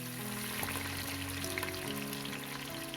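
Chopped onions sizzling in hot oil for shrimp jollof rice, a steady close crackle and hiss running evenly under low background music.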